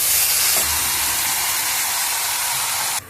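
Marinated chicken dropped into hot spiced oil in a pan, a loud steady sizzle and hiss that holds from start to finish and then cuts off abruptly.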